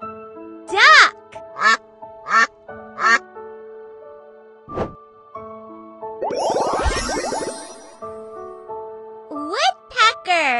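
A duck gives a burst of rapid, raspy quacks, loud and close, between short bursts of a child's speech.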